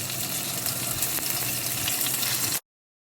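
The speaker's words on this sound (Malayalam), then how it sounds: "ഇനി ചെമ്മീൻ ഇട്ട് കൊടുക്കുക." Prawns fry in coconut oil in a pan, a dense, even crackling sizzle held close and steady for about two and a half seconds before cutting off abruptly to silence.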